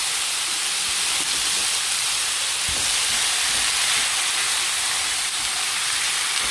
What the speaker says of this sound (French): donc on va faire revenir l'oignon là